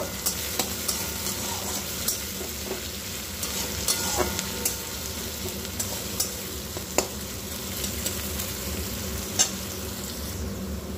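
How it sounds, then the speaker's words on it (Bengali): Onions sizzle and crackle steadily in hot oil, with occasional stirring scrapes and clinks over the continuous frying hiss. "পেঁয়াজটা দিয়ে একটু ভেজে নেব"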